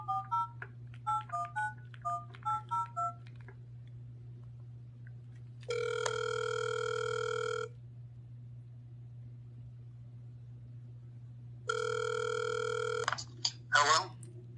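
A forwarded telephone call rings twice as two long steady ringback tones, each about two seconds, separated by silence after a quick run of dialing beeps, all over a constant low hum.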